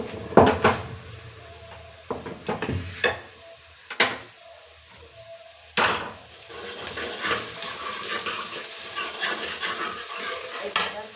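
A tadka of spices sizzles in hot oil while a spoon stirs and scrapes the pan, sharp clinks and knocks breaking up the quiet sizzle, which grows louder and steadier in the second half.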